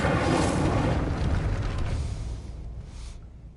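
Incendio fire spell blast in the Hogwarts video game: a loud, roaring whoosh of flame bursts out at once, then fades gradually over a few seconds.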